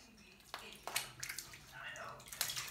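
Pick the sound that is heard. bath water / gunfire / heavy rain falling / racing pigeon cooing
bath water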